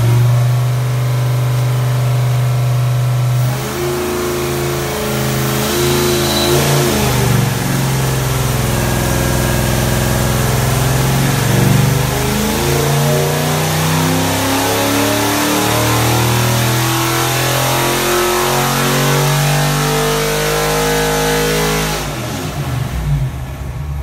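Ford 331 V8 on an engine dyno revs hard toward 6,200 RPM, a loud, close, continuous roar that climbs and surges over about twenty seconds before dropping back off at the end.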